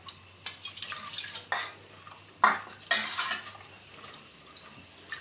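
Water sloshes in a mixer-grinder jar as ground Malabar fish curry paste is rinsed out, with close, irregular clinks and scrapes against the jar over several seconds.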